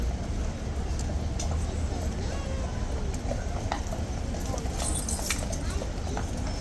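Horse hooves trotting with a steady clip-clop rhythm amid continuous outdoor background noise, at a guard post where a mounted trooper moves past; faint voices are present but no clear talk stands out.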